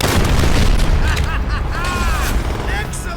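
Loud booming explosions and gunfire fill a Stalingrad video game battle as flamethrower soldiers blow up, a dense continuous rumble with bursts and whistling debris, voices faintly mixed in.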